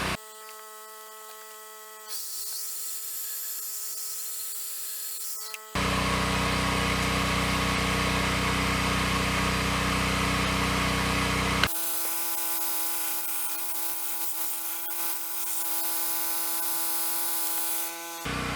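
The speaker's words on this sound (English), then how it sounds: "We're going to cut it off with the bandsaw" A bandsaw runs steadily with a tonal hum, then bites into knife handle scale material; the cut brings a louder, broadband rasping roar for several seconds before easing back to the motor's whine, with no talk.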